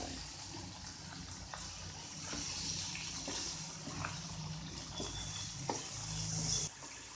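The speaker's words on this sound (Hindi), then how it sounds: "अब इसमें पानी डालेंगे।" Water poured into a pan of frying potato and cauliflower curry, a faint rushing splash over the sizzle that rises briefly, then settles.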